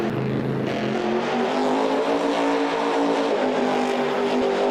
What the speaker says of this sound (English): I like the blue truck too. It's pretty cool. Listen to it run. This sucker's got some power.